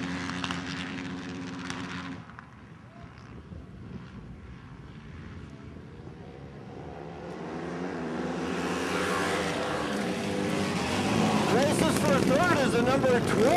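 Flat track motorcycles racing at New Ulm: engine roar rises and swells over the clip, growing louder and nearer toward the end, with a pitch-sweeping engine whine, under commentator talk.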